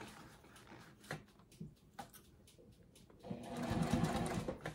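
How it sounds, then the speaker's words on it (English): A sewing machine backstitching a circle bag runs in short stitching bursts and then settles into a steadier, louder run. The sound is close and no one talks. "And I'm just gonna backstitch."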